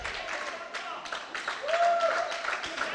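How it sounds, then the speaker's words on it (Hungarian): Spectators applauding at a Hungarian youth basketball game in a gym, light scattered clapping from a modest crowd, fairly distant and steady for a few seconds, with a commentator talking over it. "Jár a taps, szurkolókat is láthatjuk."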